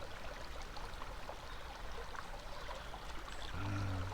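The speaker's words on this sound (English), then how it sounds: "Love the sound of the babbling water" Steady rushing babble of a flowing stream swollen after rain in Ivy Wood, Brockenhurst, New Forest, close and continuous, with a low hum joining near the end.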